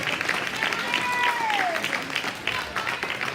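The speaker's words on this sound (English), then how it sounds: "let's give these guys the biggest round of applause we've had all day" Applause from a crowd at a swine show, a steady patter of many hands clapping, moderately loud, with a few whistles over it.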